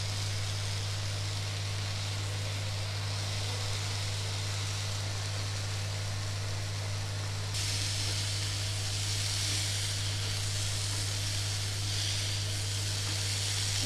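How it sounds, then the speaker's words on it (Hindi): Okra masala with Kashmiri red chilli and coriander powder fries in a pan, giving a soft, constant hiss and sizzle that swells slightly halfway through, with a steady low hum beneath. "इसे अच्छे से फ्राई होने देंगे।"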